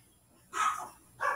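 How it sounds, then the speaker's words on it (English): Excited dogs waiting for a walk give two sharp barks about half a second apart, close and fairly loud over a quiet background. "Oh, the dogs."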